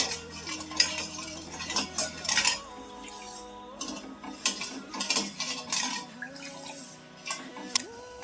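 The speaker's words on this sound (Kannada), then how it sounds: "ಇವಾಗ ಪಾಕ ಬರೋವರೆಗೂ ಮಿಕ್ಸ್ ಮಾಡ್ಕೊಂತಾ ಇರಬೇಕು." Sugar syrup for kunafa being stirred in a pan on the stove, with a spoon scraping and clinking against the metal in irregular bursts, close and fairly clear, without talk.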